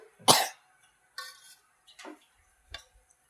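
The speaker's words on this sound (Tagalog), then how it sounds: "Ikaso inuubo yan eh." A child coughs once sharply and close, followed by several softer, spaced coughs and throaty sounds in an otherwise quiet room.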